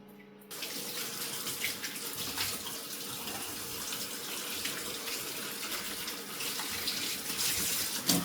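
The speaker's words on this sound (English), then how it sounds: "I'm going to gently run some warmish water over it from the tap" Warm water runs steadily from a tap over the roots of a peace lily, a close, even splashing hiss that starts abruptly and continues unbroken, with no talk.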